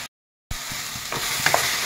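Potatoes and amita (green papaya) being fried and stirred in a pan for fish curry, a steady sizzle with soft scraping stirs and a few sharper clinks near the end, following a brief silence.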